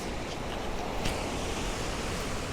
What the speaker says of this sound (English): So you can probably hear that